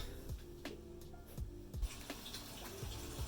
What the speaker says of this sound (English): now I can wash my hands